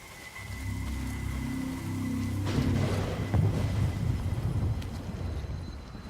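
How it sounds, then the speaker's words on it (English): Steady broadband rain hiss in the video game Days Gone Remastered, continuous and fairly loud throughout, with a low rumbling layer underneath and a few soft thuds, no voices. "the rain is really distracting for some reason"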